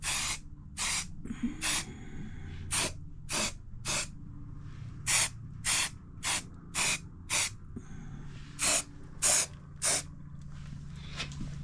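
Short bursts of aerosol spray paint hiss onto motorcycle side panels from a Honda CB750 F1, about fifteen separate sprays in an uneven rhythm, each a second or less, close and clear over a quiet background.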